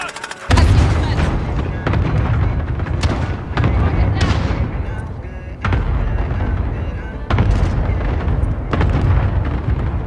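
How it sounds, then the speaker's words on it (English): A cluster strike in an online shooter game lands as a rapid series of loud booming explosions, heavy bursts repeating in uneven clusters with brief gaps between them. "Allied cluster strike inbound."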